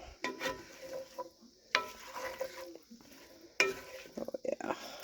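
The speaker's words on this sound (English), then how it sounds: "Give it a good stir around." A spoon stirs potatoes, meat, onions, carrots and bacon in a stew pot, with three sharp scraping knocks against the pot followed by softer stirring and faint sizzling.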